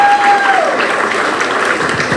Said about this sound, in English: let's give Ms. President a round of applause.